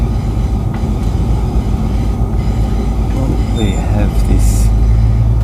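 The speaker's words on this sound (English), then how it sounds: "another grain train that's CBH." A CBH grain train rolls past on the rails, a loud, steady rumble of wagons and wheels with brief metallic squeals near the end, while a voice speaks briefly over it.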